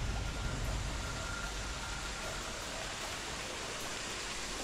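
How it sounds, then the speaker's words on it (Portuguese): Water rushes steadily through an outdoor natural setting during an airsoft game, a constant broadband roar at low level with no other clear sounds. "E o barulho da água."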